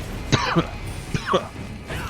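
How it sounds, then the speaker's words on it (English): Two or three separate coughs with throat clearing, close and moderately loud, spaced over about two seconds against a low background hum while a video game is played. "Bad time to be coughing."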